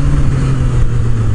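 A Yamaha MT-09 motorcycle engine drones loud and close, with a strong low steady tone that holds its pitch through a brief stretch and has no voices over it.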